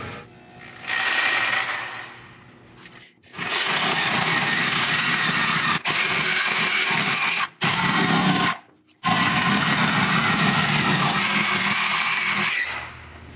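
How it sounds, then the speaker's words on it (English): Sawzall reciprocating saw cutting through welded-in steel on an Excursion stretch limo, a loud, dense buzzing rasp running in long bursts with brief pauses between cuts, close by and with no talk. "now I'm gonna go to town with the Sawzall across there"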